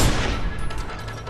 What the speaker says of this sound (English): Open fire on the bald guy.